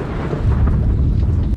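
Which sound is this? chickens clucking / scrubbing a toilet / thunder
thunder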